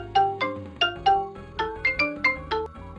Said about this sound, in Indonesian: terganggu dengan suara handphone yang berdering